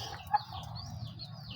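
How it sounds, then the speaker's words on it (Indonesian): Chickens roaming outside a rural village yard give soft, faint clucks and brief calls, one slightly sharper note standing out early among quiet bird chatter. "ayamnya keluar halaman"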